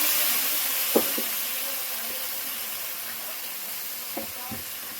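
A ground paste of tomato, cashew and green chilli hits hot oil with cumin and bay leaf for a katla fish curry, giving a steady, even sizzle with a couple of faint utensil clinks.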